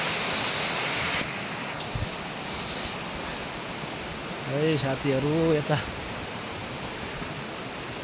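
A muddy mountain river rushes down from above in Ropa valley, Himachal Pradesh, a constant broadband roar close by, with someone briefly talking over it.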